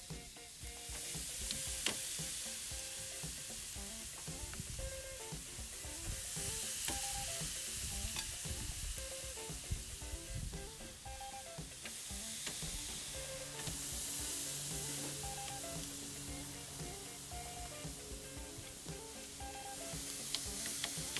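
Steady, crackling sizzle of L.A. galbi Korean barbecue short ribs cooking on a hot grill over a fire, loud and continuous, with occasional faint scraping and clinks, no voices.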